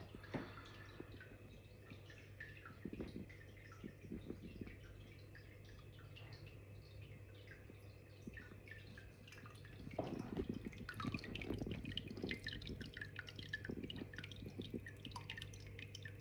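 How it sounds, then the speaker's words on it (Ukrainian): Water trickles and drips from a Sunsun external hanging aquarium filter, a quiet continuous patter with a low hum beneath that grows somewhat louder and busier toward the end. "Отак виглядає ефект струмочка."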